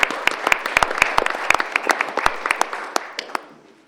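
A small group at a city council meeting claps for a few seconds, the applause scattered and uneven before fading out.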